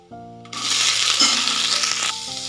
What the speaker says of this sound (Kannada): ಈಗ ನಾನು ತೊಗೊಂಡಿರೋಂತಹ 2 ಈರುಳ್ಳಿಯನ್ನು ಈಗ ಸೇರಿಸ್ಕೊತಾ ಇದ್ದೀನಿ.